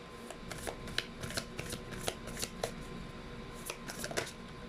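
Tarot cards being shuffled by hand nearby, a run of quick crisp riffling snaps and flutters in uneven bursts, with no speech over them.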